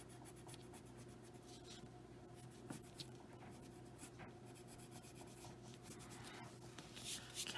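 A dark green colored pencil scratches and rubs over paper on a coloring page, soft close strokes with a steady back-and-forth rasp and a faint hum beneath.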